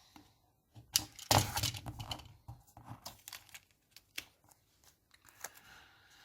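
Paper card being cut by hand, close crisp snipping and crinkling strokes, a dense burst early then scattered short cuts with quiet gaps.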